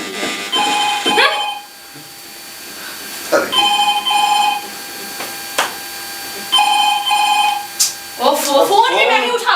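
A telephone rings in repeated electronic bursts of bright tones inside a home, each ring separated by brief gaps, with voices talking between and after the rings.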